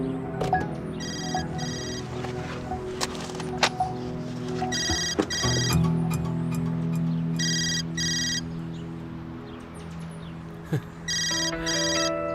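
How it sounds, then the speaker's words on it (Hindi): A phone ringtone repeats in short bursts of electronic tones across a quiet indoor scene, with occasional thuds and door-like knocks in between and no talk. "फोन क्यों नहीं उठा रही?"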